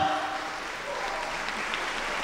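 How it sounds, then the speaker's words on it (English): An audience at a world culture quiz national final claps for a contestant, a brief, even wash of applause with faint voices mixed underneath. "Give him a round of applause."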